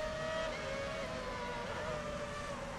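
Formula 1 race car engine in F1 Championship Edition on PS3: a steady, high-pitched engine drone at constant loudness throughout.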